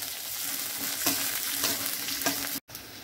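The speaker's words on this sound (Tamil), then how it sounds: "வெங்காயம் பெருசா ஒன்று கட் பண்ணி வச்சிருக்கேங்க அது போட்டு நல்லா வதக்கிக்கலாம்" Chopped onion with curry leaves sautés in hot oil in a pan for a chickpea kulambu: a steady close sizzle, with a few scraping stir strokes and a brief dropout near the end.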